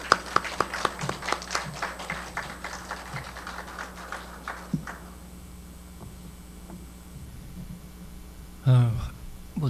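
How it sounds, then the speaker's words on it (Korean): A small audience at a poetry seminar claps to welcome a speaker, with distinct, rhythmic handclaps that gradually thin out and stop, followed by quiet and a brief voice. "박수로 모시겠습니다."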